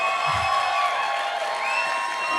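Wedding guests at an outdoor garden reception cheer and applaud the newlyweds, a sustained, fairly loud crowd roar of clapping and whoops that stays level throughout.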